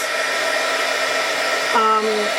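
A hair dryer blows steadily at close range while drying shimmer spray on craft tags, a constant airy whoosh with a humming motor tone that shifts pitch slightly near the end.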